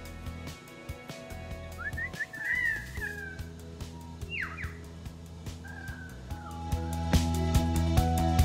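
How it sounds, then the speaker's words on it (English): A lyrebird calls from trees on Mt Ngungun, a few whistled, sliding notes at moderate distance over a steady background hum, with no talking. "You can hear the beautiful birds in the background."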